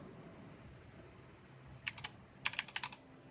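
Keys on a computer keyboard tapped to enter a name, a short burst of clicks followed by a quicker cluster of keystrokes over a faint room hum.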